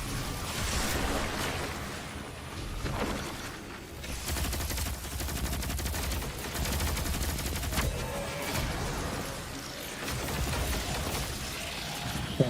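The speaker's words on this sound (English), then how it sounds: "Why is he shooting at me, guys?" Sustained gunfire from the Destiny 2 video game, dense overlapping automatic bursts and shots that continue for the whole stretch, loud and near, with no talk.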